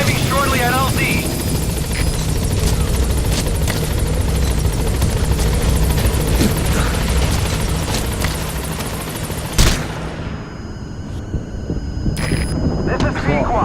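Helicopter rotor and engine roar from the B-Quad gunship in Metal Gear Solid V, a dense steady thrum heading to a landing zone with scattered game effects, cutting off abruptly near the end.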